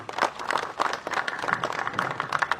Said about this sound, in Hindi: सो ये वॉलंटियर्स के लिए भी एक बार तालियां बजा दीजिए